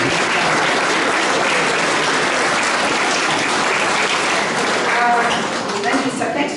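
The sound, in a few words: crowd applauding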